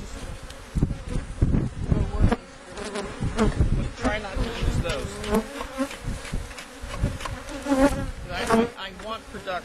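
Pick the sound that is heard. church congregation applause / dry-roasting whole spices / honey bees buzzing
honey bees buzzing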